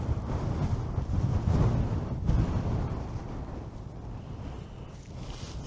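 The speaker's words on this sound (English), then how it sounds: "it's a bit breezy up here" Gusty wind roars across the mic on an exposed fell top of Seathwaite Fell, a loud low rumbling buffet that swells and eases over several seconds with no voices.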